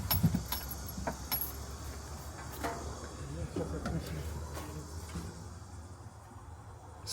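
Keys jangle and rattle briefly at the door of an old GMC truck that has sat for years, a close metallic clinking at the start, then softer handling noises over faint insect-like background hum.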